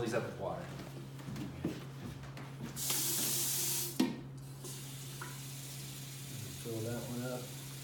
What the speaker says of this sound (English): I'm going to fill these up with water.